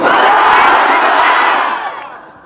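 A huge crowd at a religious mahfil in Sirajganj roars the takbir slogan in unison, one loud, sustained massed shout that swells and then fades away over a couple of seconds.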